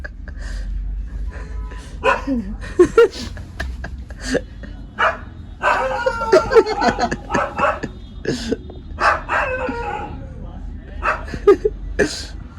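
A dog barks in sharp bursts at a tiger brought near the door as a prank, amid excited talking and background chatter.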